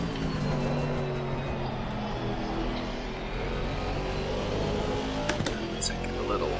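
A Ginetta race car's engine drones with a steady, strained howl on the Barcelona track in Assetto Corsa Competizione, a brief sharper burst near the end, heard under a commentator's voice.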